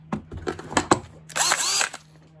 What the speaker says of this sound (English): quite a robust little drill